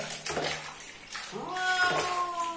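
A domestic cat being bathed, with water poured slowly over it, meows several times in distress over splashing and running water nearby, with a person speaking softly in the background.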